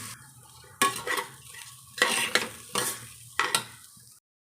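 A spoon stirs washed rice and moong dal with salt in a pot for ven pongal, four distinct scraping, rustling strokes at roughly even intervals over a low background hum, close and clear, with no talking.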